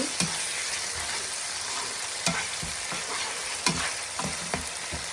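Garlic paste and spices frying in a pan, a dense continuous sizzle with a few sharp clicks of a spoon stirring against the pan, close up and without speech.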